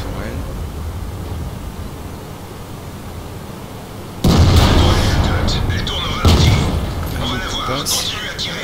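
T54 tank cannon blasts in a video game, two heavy booming shots a couple of seconds apart, each followed by a rumbling decay over a low engine drone.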